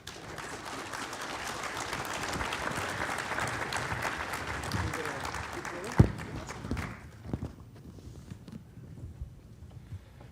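Audience applause rings out after a panel on economic reconciliation, a dense steady roar of clapping for about six seconds, then tapering into scattered claps and a sharp thump as the hall quiets.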